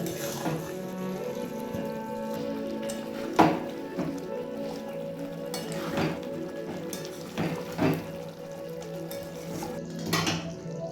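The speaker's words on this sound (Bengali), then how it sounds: "সবটাকে আবারও খুব ভালোভাবে আমি মিশিয়ে নেব।" Chicken chaap in a pot being stirred with fried spice mix, a utensil scraping and clinking against the metal in irregular knocks over a steady background hum.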